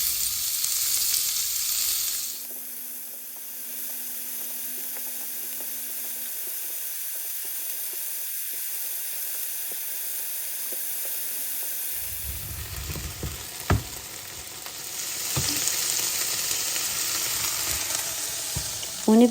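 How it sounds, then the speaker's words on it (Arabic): Kofta frying in a little oil in a pan, with a loud hissing sizzle at first that drops to a quiet stretch, then returns strongly with a few sharp clinks and spatters. "نحط كمية كلش قليلة من الزيت ونحط الكفتة عليهم ونشويها"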